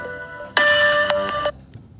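Telephone ringing: a bright electronic ring tone with steady tonal pitches, starting abruptly, holding for about a second with a brief stutter, then cutting off. Near and clear, with no talk over it.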